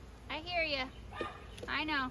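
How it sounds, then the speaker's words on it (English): Lilo, a pet dog near backyard beehives, gives two drawn-out, whining yips a second or so apart, close and fairly loud, while a person speaks softly over them. "If you hear a dog barking,"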